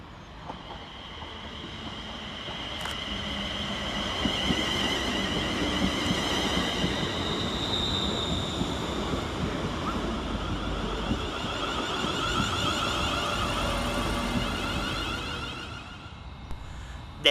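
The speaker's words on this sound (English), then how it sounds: "we see the arrival of 380104, working the 1225 Scotrail service from Ayr to Glasgow Central." Scotrail train 380104 arrives at Paisley Gilmour Street station on the Ayr to Glasgow Central service, a sustained rumble of rolling wheels with faint high whines and squeals and some wind noise, steady then easing as it slows.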